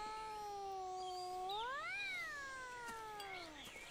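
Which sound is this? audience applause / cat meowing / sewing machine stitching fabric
cat meowing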